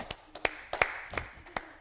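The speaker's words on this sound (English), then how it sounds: "for some more claps." Hands clapping during a mom and baby yoga session, about seven sharp single claps at an uneven, unhurried pace, close and clear with quiet gaps between.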